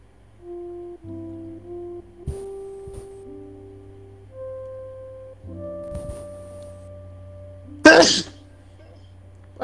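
A single sharp sneeze bursts out near the end, loud and close, following quiet ambient game-like tones in a frog life-simulation setting.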